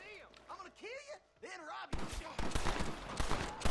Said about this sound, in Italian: Infatti già ci sparano.